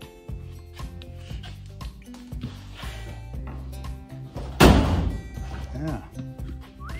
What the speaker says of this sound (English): Doors still shut nicely.